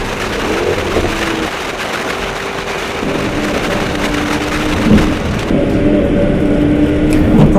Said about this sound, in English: The engine is absolutely incredible.